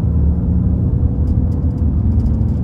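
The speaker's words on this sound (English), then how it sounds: "Taking a step out here about half throttle." A 2024 Ram 2500 Rebel with an inline six-cylinder diesel pulling at half throttle, a steady low, heavy engine rumble heard from inside the cab, loud and continuous, no talk.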